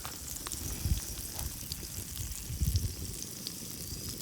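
Chicken sizzling in hot oil in a pan for a village-style kaul fry, a steady close crackle with occasional louder bursts of spatter and faint stirring.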